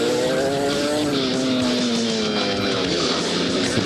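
A racing motorcycle engine accelerates hard on an ice track, holding a loud, steady high-revving drone that rises in pitch without a break, with other engines blending into the roar.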